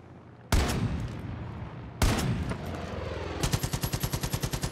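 Gunshots in the shooter game Far Cry 5: two loud, sharp single cracks with ringing decay, spaced about a second and a half apart, then a fast burst of rapid automatic fire close up.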